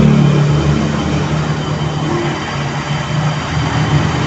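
Motorcycle engine held at a steady rev while its speed is read on a Hongda tachometer, a continuous loud low rumble with a stable drone and no talk.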